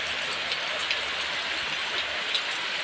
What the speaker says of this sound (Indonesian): Hujan deras disertai angin kencang nih.